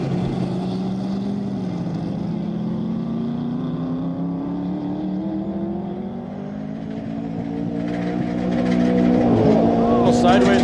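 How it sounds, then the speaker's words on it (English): A race car engine drones steadily as the car runs on course at Speedweek after leaving the push truck. The engine is loud and sustained, its pitch climbing gradually, then swelling louder near the end. "On course now, Chris Rasky."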